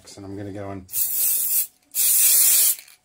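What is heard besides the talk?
aerosol spray onto wax casting setup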